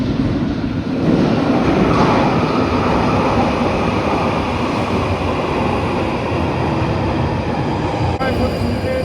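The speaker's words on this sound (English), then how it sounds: "Our train is the next one." A train pulls through a London station with a loud, continuous rumble and rolling roar that stays steady throughout, with a faint high whine above and a brief click near the end.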